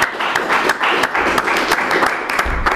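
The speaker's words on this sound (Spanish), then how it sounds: "Pues pido un aplauso por favor." An audience at a book presentation in a university hall breaks into applause, a dense, steady patter of many hands clapping for a few seconds.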